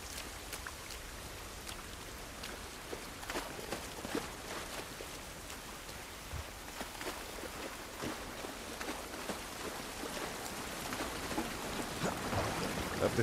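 Steady rain in the video game The Last of Us Part I patters and hisses on surfaces, with scattered louder drops ticking through a soft, even wash of sound.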